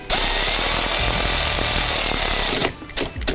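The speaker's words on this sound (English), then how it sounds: "Reverse direction on this powered ratchet. Tighten back down." A powered ratchet runs in a steady, loud whir while tightening nuts on the hood of a 2023+ Ford Super Duty during LED hood light installation, then stops with a few brief bursts near the end.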